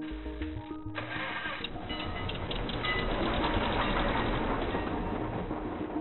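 Recorded vehicle engine noise from the Voyager Golden Record's sounds of Earth, a steady dense mechanical rumble and whir running throughout at fairly constant loudness, with no voices.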